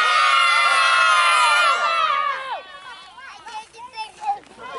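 Children's teams at a T-ball baseball festival shout and cheer together in a loud, sustained high-pitched roar that fades into scattered excited voices and whoops, with an adult talking nearby.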